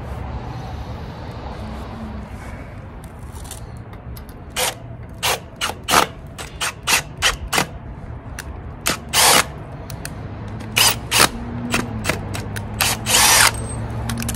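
A power drill bores holes in concrete for Tapcon screws, with a run of short whirring bursts and clicks, near and loud, spaced irregularly over a quiet background.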